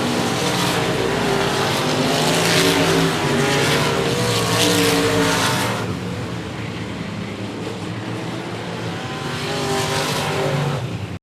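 Race cars roar around the 105 Speedway track during a regular race program, a loud continuous engine drone that swells and fades as cars pass, with tire noise and no talk.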